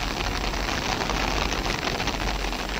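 Heavy rain falls steadily in Jalgaon district, a dense, even hiss of drops on surfaces that holds constant throughout with no voices.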